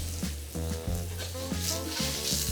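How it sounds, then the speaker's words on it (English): Bok choy, carrots and mushrooms sauté in a pan used for steak, giving a steady close sizzle with soft stirring scrapes, loud and continuous. "give a light saute to my bok choy, my carrots, and mushrooms"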